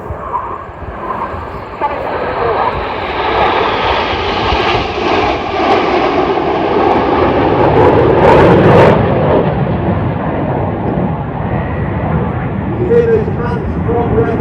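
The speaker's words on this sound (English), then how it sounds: "This is the bottom side pass of Concorde." A formation of jet aircraft shaped like Concorde roars overhead at an airshow, a loud broad rumbling pass that swells and fades, with a commentator's voice over a PA heard throughout.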